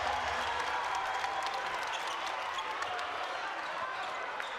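A high school basketball crowd at a Brentwood versus Longwood game roars and cheers in a steady, even wash of noise throughout, heard from within the gym.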